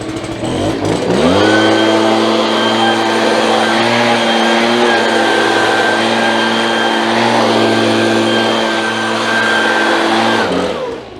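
A lawn blower clears grass clippings off the lawn edges, a loud, steady engine drone with a sustained whine that holds close and constant before easing off at the end.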